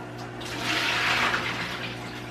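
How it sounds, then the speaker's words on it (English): Cooking water from lasagna noodles pours into a sink as they drain, a rushing splash that swells and holds over a steady background hum. "So now I'm gonna drain my my noodles and I'm gonna start to layer it up."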